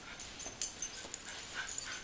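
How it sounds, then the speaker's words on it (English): A dog whimpers and lets out a few short yips indoors, faint and intermittent, while a package is being opened nearby. "while I shut this so my dog doesn't keep barking"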